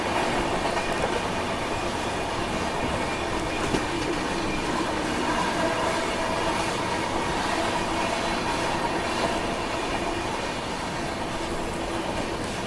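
The Ranchi Rajdhani Express runs through Chunar Junction with a dense, steady roar of wheels on rails, faint clicking and squealing from the track, heard continuously throughout.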